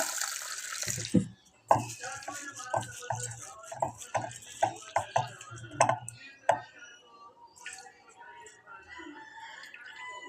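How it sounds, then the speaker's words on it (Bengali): Red lentils are washed by hand in water in a home kitchen, with close splashing, swishing and clattering bursts in an uneven rhythm, plus running water; a faint voice is heard in the background. "মসুর ডালটাকে ভালো করে ধুয়ে নেব"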